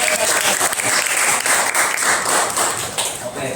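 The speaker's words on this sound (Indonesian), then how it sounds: "Oke, tepuk tangan dulu." Classroom audience applauding at a school guidance session, a dense burst of many hands clapping that stays loud and steady throughout, with faint voices mixed in.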